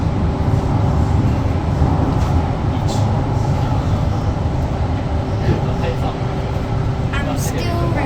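An SMRT T251 train runs along the rails in a steady, loud rumble with rolling wheel noise heard from inside the carriage, without a break.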